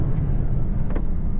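A Bentley Continental GT Speed runs hard on a race track in New Zealand, a deep, steady engine roar with low rumble and no talk over it.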